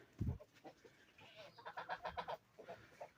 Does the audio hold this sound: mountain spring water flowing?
no